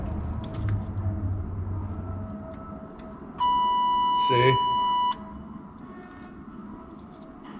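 A car's warning buzzer, set off by hooking up a 94 wiring harness, sounds as one steady electronic tone for under two seconds over faint background noise, with a brief spoken word nearby.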